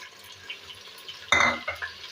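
Green chillies and chopped garlic drop into a pan of okra, giving a sudden loud burst of frying with clattering utensil noise that fades into a softer sizzle.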